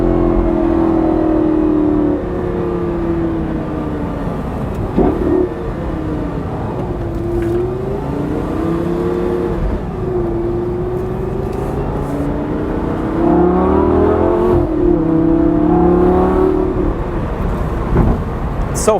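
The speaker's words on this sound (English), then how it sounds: "just to give you an idea of the exhaust sound, I'm gonna drop it in a second with my foot on the throttle" Lamborghini Gallardo LP560-4 Spyder exhaust rising and falling through repeated throttle pulls while accelerating, loud and close, with the engine note sweeping up in pitch several times over a steady road roar.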